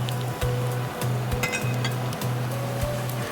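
Onion paste, a quarter cup, goes into a hot pan for hilsa fish korma and sizzles at once, a close crackling fry with a few light clinks over a steady low hum.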